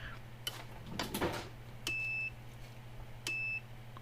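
A Kencove EKD16 electric fence energizer sounds its alarm as two short, high electronic beeps spaced about a second and a half apart. They are faint over a quiet room hum, with some handling clatter just before.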